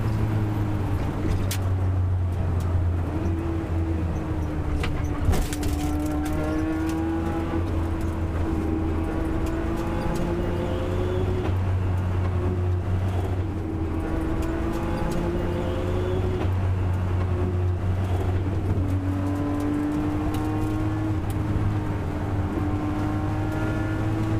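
A Nissan GTR 32 race car drives a Targa NZ rally stage, its engine droning steadily and loud throughout, with the pitch rising and falling as it accelerates and shifts.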